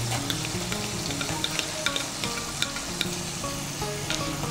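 Ground tomato paste frying in oil with turmeric and spices, a steady sizzle punctuated by regular clinks and scrapes of a spoon stirring the masala.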